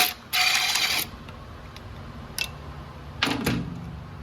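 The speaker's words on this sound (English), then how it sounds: "now we're going to remove this 13 millimeter bolt" Ratchet working a 13 mm bolt on a Dodge Ram 68RFE transmission behind a Cummins 6.7L, with a clicking burst near the start and more short mechanical clicks later, close, with no talk.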